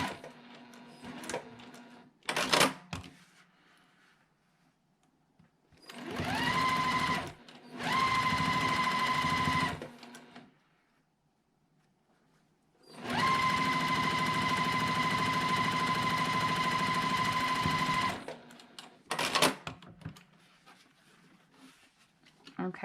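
Sewing machine running in three bursts as it stitches a nesting seam on a quilt block, a steady whirring hum lasting a few seconds each time, separated by quiet pauses and handling sounds.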